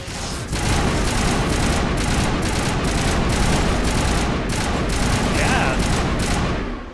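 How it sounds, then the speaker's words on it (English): Rapid continuous gunfire from an overheating gun in a video game, loud dense bursts rattling nonstop for several seconds before cutting off. "gun overheats"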